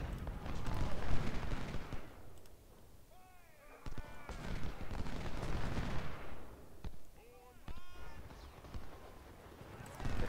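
Cannon fire rolls across a battlefield in the Civil War strategy game Ultimate General: Civil War, with repeated booming artillery blasts and scattered volleys under bursts of shouting and horse whinnies.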